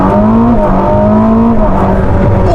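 Ferrari SF90 Stradale accelerating hard, a loud, steady engine roar with rising pitch broken by rapid gear shifts, heard close and continuous with no talking.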